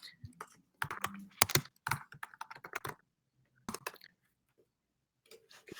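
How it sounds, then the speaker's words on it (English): A man typing on a computer keyboard, quick bursts of close, crisp key clicks separated by short pauses, with brief talk at moments. "He is typing."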